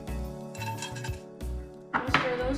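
Almonds dropping into a pan of ghee while cooking kheer, giving a few bright metallic clinks and rattles against the pan, fairly quiet and close.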